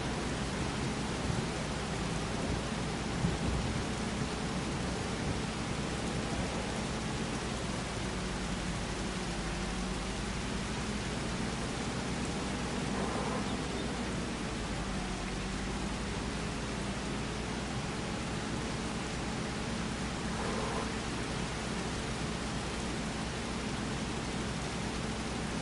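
Steady, even rain hisses without pause from start to finish in the farming game Farming Simulator 25, a dense wash of falling water with no breaks.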